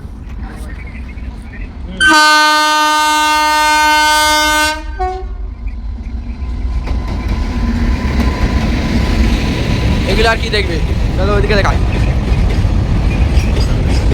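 A train crosses the Kolaghat rail bridge, sounding a loud sustained horn for about three seconds, followed by a rising, continuous rumble and clatter of wheels on the span; a person talks over the start.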